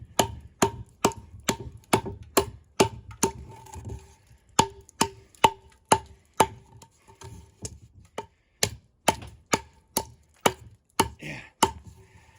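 Eafengrow EF135 tactical survival knife chopping through wood, a long series of sharp, loud, evenly spaced strikes with a brief pause midway, close and without talk.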